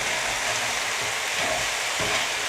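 Hash browns fry in a pan over a very hot burner, a steady dense sizzle with occasional soft scrapes of stirring, close and continuous.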